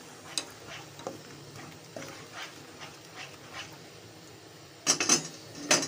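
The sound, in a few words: stirring ground onion mixture in a cooking pot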